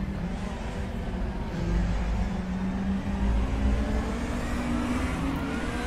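A race car in the RaceRoom VR racing game gives a steady engine drone that rises and falls with revving and acceleration, close and continuous, with no talking.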